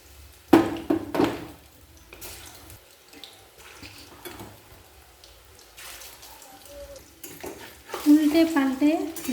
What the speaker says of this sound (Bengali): মিডিয়াম টু লো ফ্লেমে আমি প্রথমে ছোটো ছোটো চিকেন পকোড়া ভেজে নেব।